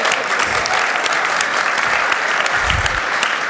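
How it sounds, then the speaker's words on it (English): Warm, sustained round of applause from an awards-ceremony audience for a standing board of directors, many hands clapping in a dense, even wash that holds steady throughout, close and full with no speech on top. "Do you all mind standing so we can give you a round of applause?"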